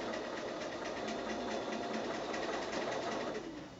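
A sewing machine quilting over a short stretch of existing stitching, a steady close mechanical whir with a fast even needle chatter, running continuously and easing slightly at the end.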